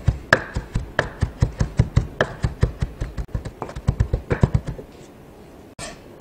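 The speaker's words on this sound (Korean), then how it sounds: "자, 그 다음에 다시 한번 뒷날로 곱게 다지겠습니다." Beef is finely minced with the back of a kitchen knife on a cutting board, a steady run of close, crisp taps in quick rhythm that pauses briefly near the end before one last knock.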